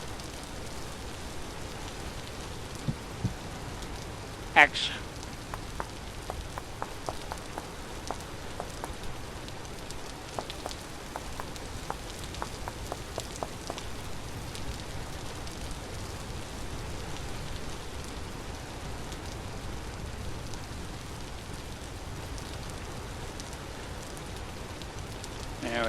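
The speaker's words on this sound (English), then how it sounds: "Boy, that rain's really coming down now." Heavy rain falls steadily in the game Vintage Story, a dense even hiss of drops with small pattering ticks and one brief sharp crackle early on, lasting throughout at moderate loudness.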